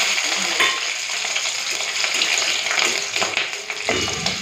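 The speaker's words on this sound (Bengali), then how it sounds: "কাঁচা লঙ্কা রসুনটাকে হালকা ভেজে নিয়েছি" Green chillies and garlic frying in hot oil, a bright, dense sizzle close by with occasional stirring scrapes, steady throughout and without any voices.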